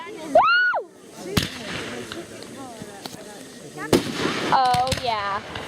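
Fireworks bursting, with sharp broadband cracks near 1.4 s and 3.9 s amid a steady crackle, while excited voices whoop and talk throughout.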